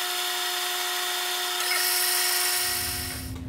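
Drill bit cutting tap drill holes for a quarter-20 thread in a new half nut for an Atlas 618 lathe, a steady high whine that rises in pitch and intensity midway, then winds down near the end, with no talking.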